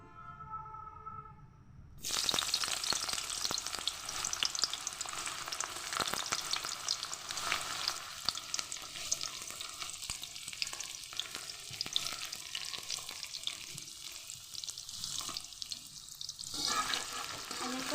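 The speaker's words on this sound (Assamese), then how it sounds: "পিঁয়াজখিনি মই অকণমান ৰংচুৱাকৈ ভাজি ল'ম" Onions hit hot mustard oil in a wok and erupt into a loud, steady sizzle after a short quiet start, crackling on continuously with no voices.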